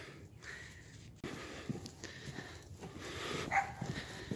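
Dogs out on a snowy walk in Calgary, with soft sniffing and snorting close by over steady outdoor wind and footstep noise, and a faint whimper-like squeak near the end.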